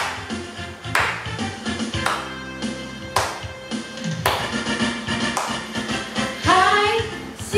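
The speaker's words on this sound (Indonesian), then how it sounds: "Pakai tepuk tangan juga boleh." Children at a Sunday school service clap along to a lively song, the claps coming in sharp bursts over loud music and singing.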